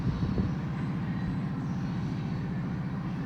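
Freight train rolling by in snow, a steady low rumble with rhythmic clacking of wheels over rail joints at moderate distance, continuous and without voices.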